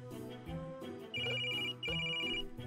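A phone rings in the cute pink indie game The Jellyfish Girl's Absolute Abnormal Adventure, with two bright trilling bursts over a bouncy musical backing.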